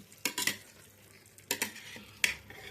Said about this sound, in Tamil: ஃபுல்லாக அப்படியே மிக்ஸ் பண்ணிடலாம்